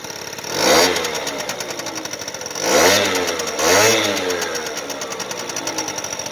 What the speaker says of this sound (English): I'm going to rev it up a little bit for you.